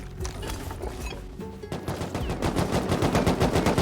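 Video game gunfire rattles in rapid automatic bursts, sparse at first and then a dense, steady stream of close, loud shots.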